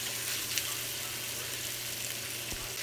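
Lamb meat browns in a pan with a steady, soft hiss and crackle, a faint clink sounding once near the end.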